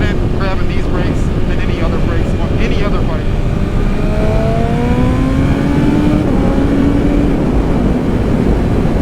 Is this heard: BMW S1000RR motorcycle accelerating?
yes